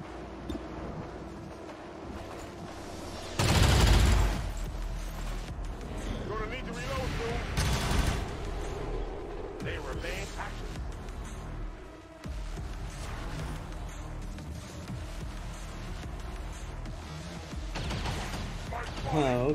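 Gunfire in XCOM 2: War of the Chosen with Long War 2: a loud burst of shots near the start and another around the middle, followed by lighter battle effects, with someone talking over most of it.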